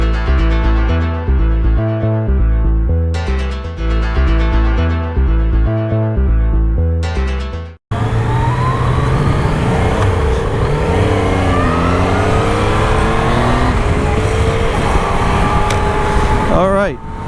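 Yamaha FJR1300 motorcycle out on a ride, its engine droning loud and close, first with steady stepped revs, then a broad roar with wind noise as the pitch climbs and falls through acceleration.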